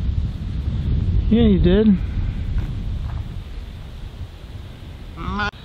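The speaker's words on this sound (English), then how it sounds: "So you can probably hear it's pretty windy." Strong gusty wind outdoors on a farm where a newborn lamb and its mother are kept, a steady loud rush buffeting the microphone throughout, with a brief lamb bleat early on and a person speaking near the end.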